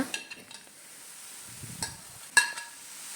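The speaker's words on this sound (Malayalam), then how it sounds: "ഊറ്റി വെച്ച അമരപ്പയറും കൂടെ നമുക്ക് ഇതിലേക്ക് ചേർത്ത് കൊടുക്കാം" Drained flat beans (amara payar) go into a pan and are stirred, with a few sharp scrapes and clinks of a spoon against the pan over a soft sizzle, close and fairly quiet.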